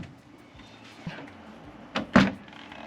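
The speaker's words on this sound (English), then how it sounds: "So I'm just going to test the door now." Door of a VW New Beetle tested after a lock actuator replacement: faint handling noises, then two quick close thuds near the end, the second louder.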